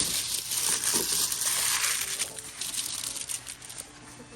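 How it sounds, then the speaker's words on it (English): Scissors snipping and crinkling through excess shrink wrap plastic around sneakers, a close, continuous rustling crackle with sharp cutting bursts that fades slightly toward the end, no talking. "Now we're going to go through with our scissors and cut off all the excess plastic."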